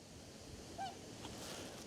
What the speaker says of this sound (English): We got some geese over there.